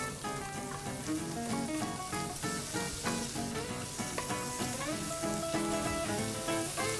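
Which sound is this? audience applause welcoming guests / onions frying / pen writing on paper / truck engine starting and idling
onions frying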